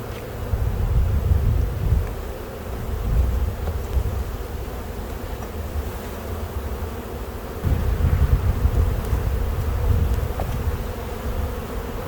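A big honeybee colony in spring buzzes in a dense, steady drone heard close up. Wind rumbles now and then against the microphone.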